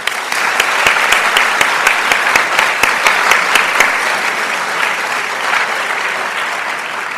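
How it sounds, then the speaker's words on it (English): Sustained applause from an audience at a school board meeting honoring students, staff and community partners, steady and fairly loud throughout with a few sharp individual claps standing out early on. "Let's have another round of applause for these students,"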